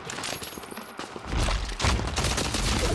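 Pump shotgun fire in a video game roars in a dense, loud barrage of overlapping blasts that grows heavier partway through and continues without a break.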